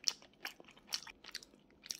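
Glutinous rice sweet potato bread is bitten and chewed with soft, close crunchy and sticky mouth sounds in irregular bursts, quiet and isolated.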